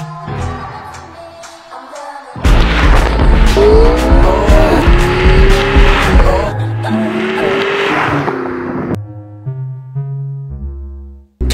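Car driven hard with tires squealing loudly, sharp rising and falling screeches over a steady roaring engine for several seconds before it eases off; the engine then idles low.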